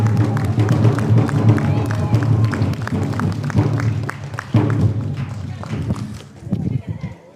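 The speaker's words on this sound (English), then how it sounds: "let's give all our nations a big round of applause" Audience applause at a tri-nation MOU signing ceremony, a sustained wash of many hands clapping in a room, fading toward the end, with voices mixed in.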